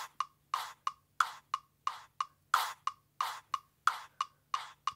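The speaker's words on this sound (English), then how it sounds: "So put echo on the chant vox and it should sound like this." A chanted vocal hit repeats in a steady rhythm, each one trailing off into echoing repeats, about a dozen times over a few seconds with a low hum underneath.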